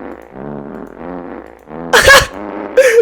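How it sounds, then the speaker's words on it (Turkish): Two short, loud flatulent fart noises from Minecraft burst out, one longer and one brief, following a stretch of low muffled sound. "sağ tıklayıp osuruk sesi çıkartacağım"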